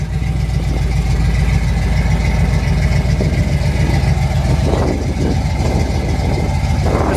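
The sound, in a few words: 1969 Chevrolet Chevelle engine idling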